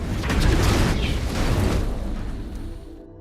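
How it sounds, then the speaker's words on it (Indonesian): A gas explosion in a film, set off by sparks, roars and rumbles for a couple of seconds, then fades away into silence. "Ledakan itu disebabkan oleh percikan api yang tadi mendekati ke arah gas."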